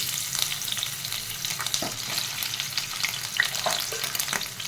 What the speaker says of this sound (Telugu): ఇప్పుడు అదే ఆయిల్లో చికెన్ వేసేసుకున్నాం